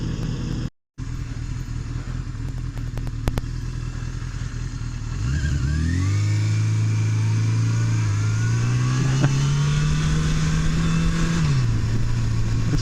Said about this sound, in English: This bike does a little hesitation, a little like purr type thing when you start out from a stop